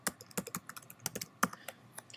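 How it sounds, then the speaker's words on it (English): A username being typed on a computer keyboard: a quick, uneven run of distinct close key clicks, with one louder keystroke near the middle and no talking. "I'll type in that name and hit enter."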